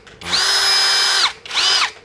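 A cordless battery drill driver, one of a batch of budget power tools with an adjustable 1–23 clutch, whirs loudly at high speed in two bursts, a long steady run and a shorter second spin-up, with no talk.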